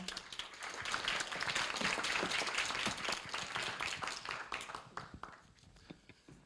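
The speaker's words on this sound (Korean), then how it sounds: "박수로 맞이해 주시기 바랍니다." Audience applause at a Korea University startup event welcoming a company head to the stage, a fairly quiet, moderate clapping from a modest crowd that swells, holds, then thins out toward the end.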